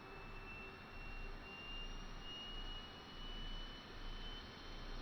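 A distant MD-82 jet engine spooling up in Microsoft Flight Simulator drones steadily with a thin high whine above it, swelling and easing slightly in a gentle rhythmic pulse, quiet overall.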